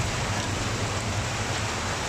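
Steady, heavy rain pours down in a constant hiss after a typhoon, dense and even with no pauses.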